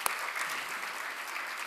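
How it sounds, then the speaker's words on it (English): A brief, steady wash of audience applause at a Martin Luther King memorial event at Essex County College, dense and even from a medium distance. "Let's give them another round of applause."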